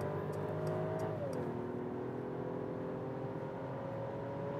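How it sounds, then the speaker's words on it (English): Mercedes S-Class S500 six-cylinder engine accelerating hard on a German motorway from 100 km/h in sports mode, a subdued rising whine that drops as a gear changes, then climbs again over steady road and wind noise. "The six cylinder we have here in the S500, but still quick acceleration."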